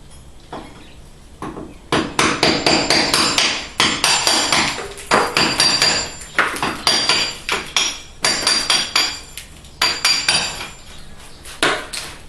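Hard hammer-and-chisel blows chipping open a crack in a shallow plaster wall, struck in rapid uneven bursts of sharp close knocks with short pauses between runs, no voices.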